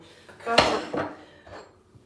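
A metal pot clanks against other cookware, a bright clatter followed by softer knocks and a scrape, fairly close.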